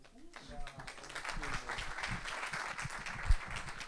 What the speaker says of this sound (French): Merci de vos applaudissements pour nos intervenants.